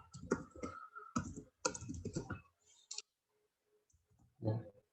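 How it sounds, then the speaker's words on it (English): Computer keyboard typing in clustered bursts of quick close clicks, separated by short pauses, then a final lone tap after a quiet gap. "And type something."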